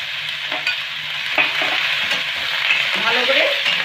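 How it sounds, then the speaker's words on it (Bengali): Snake gourd stirred with salt and turmeric in hot frying oil gives a loud, continuous sizzle close by, broken by scraping strokes of a spatula across the pan. "ভালো করে নেড়ে নুন আর হলুদটাকে মিশিয়ে নেব।"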